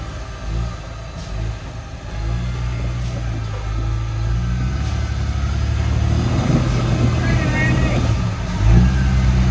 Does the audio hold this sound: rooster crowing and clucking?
no